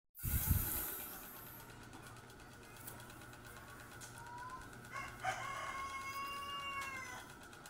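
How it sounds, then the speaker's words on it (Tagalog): Chickens cluck and a rooster crows from outside a home in the Philippines, faint, scattered calls over a steady background hum and a low engine drone, with no talking. "ang ingay ng mga manok dito sa amin"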